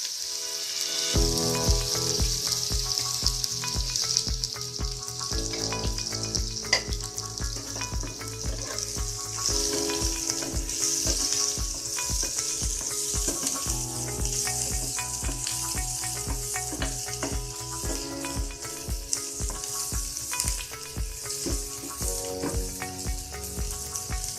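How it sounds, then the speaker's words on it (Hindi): Sliced onions hissing in hot oil in a pan, a steady bright sizzle running under a loud melodic music track, with faint stirring clinks and no talking. "अब ऑयल डालेंगे। इसमें अब प्याज डालेंगे।"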